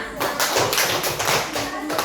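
A classroom of children clapping out a rhythmic 'tepuk wow' cheer, several sharp group claps in a patterned beat, close and loud, with a teacher's voice mixed in.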